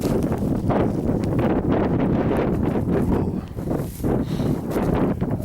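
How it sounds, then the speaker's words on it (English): Cold wind buffets the microphone on the open summit of Meall Mor, a steady, loud, close roar of gusts that barely lets up, with a brief lull near the end. "I said already the wind's pretty cold"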